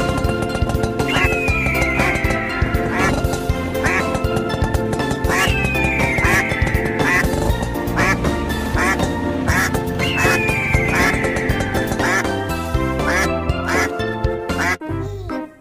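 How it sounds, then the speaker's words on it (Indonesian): Large white mother duck quacking among other farm animals, repeated loud nasal calls in irregular bursts over a dense, constant background of animal sounds. "Ada induk bebek jumbo, teman-teman. Warna putih."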